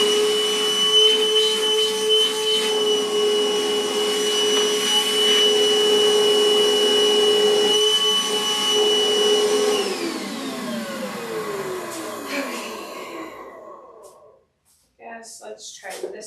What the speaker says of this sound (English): getting the vacuum back out